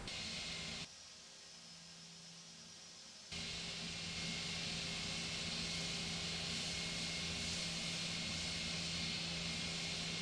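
Aegean A320 airliner in the Prepar3D flight simulator taxiing, a steady broadband jet engine roar and hiss with a low hum, dipping briefly early on then holding constant, with no speech.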